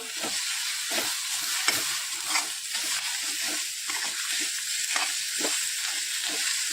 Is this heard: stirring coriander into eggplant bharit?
yes